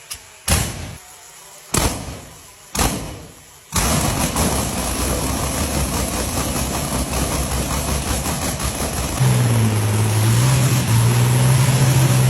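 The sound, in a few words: Rolls-Royce V12 Meteor engine started after 12 years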